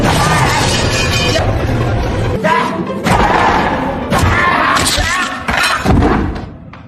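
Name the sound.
objects being smashed in a film scene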